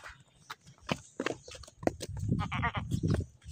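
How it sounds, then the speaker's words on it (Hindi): Close by in a village yard, a goat bleats a few times, short wavering calls just after it is untied, with rustling and movement around it. "मैंने बकरी को खोल लिया है।"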